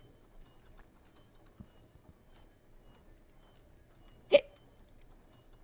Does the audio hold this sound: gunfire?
no